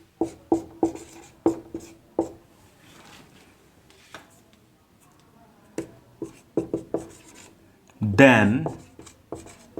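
Handwriting during a lecture on database normalization: pen or chalk strokes come in scratchy bursts between stretches of a teacher's speech.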